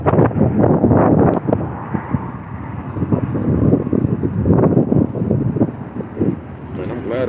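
Strong wind blows outdoors near a truck, buffeting the microphone with a loud, steady roar and gusty rumble while someone talks over it.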